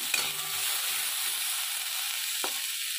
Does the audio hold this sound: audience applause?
no